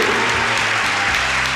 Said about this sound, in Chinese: 给何老师掌声鼓励